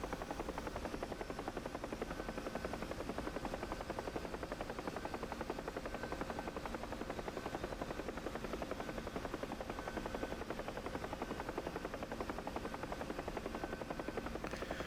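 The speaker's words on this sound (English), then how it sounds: "here's the infamous DCS Huey" Simulated Bell UH-1 Huey helicopter in the DCS flight simulator during an autorotation descent, a steady rhythmic rotor thump and whine holding at an even, moderate level throughout with no voices.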